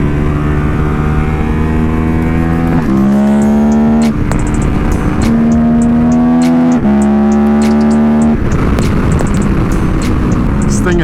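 A 2018 KTM 1290 Super Adventure R motorcycle accelerates hard in third gear with clutchless upshifts, its engine roaring loudly and rising in pitch, breaking briefly at each shift, with rushing wind throughout.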